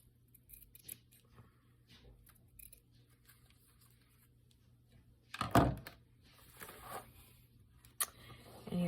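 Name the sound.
trimming a small piece for a journal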